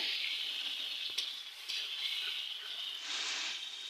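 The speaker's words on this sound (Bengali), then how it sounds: "এই যে মশলাগুলো এবার কষিয়ে নেব, নেওয়ার পরে ভালোভাবে কষিয়ে নেব" Spices frying and being stirred in a pan for chicken biryani, a steady soft hiss of sizzling oil running the whole time with a few faint scrapes, heard alone at moderate distance.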